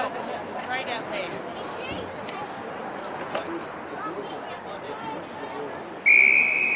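A referee's whistle sounds during a women's under-20 all-stars Australian football match between Southern and Northern Tasmanian sides, a sharp high blast rising from steady crowd chatter and commentary near the end.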